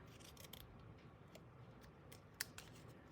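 Scissors trim paper for a handmade card, a soft crisp series of close snips with one sharper cut standing out, faint and without talk.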